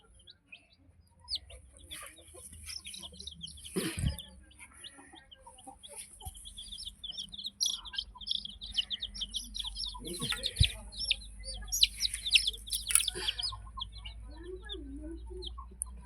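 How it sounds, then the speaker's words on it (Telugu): Chickens clucking and chirping in a pen, several birds calling near and far in irregular bursts over a low background hum, with occasional faint voices. "ఇంకా చాలా కోళ్ళు ఉన్నాయి"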